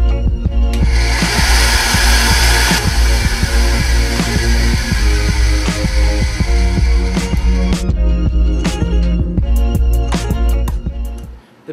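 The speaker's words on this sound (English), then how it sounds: "a really helpful tool for making these parts is the bandsaw that you see here, which helps us make precision cuts" Bandsaw cutting a large aluminum sheet in a robotics workshop, a loud steady whine with a rising hiss through most of the cut, then winding down near the end.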